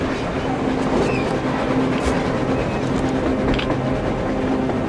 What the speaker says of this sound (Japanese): 地上を列車が走ってる。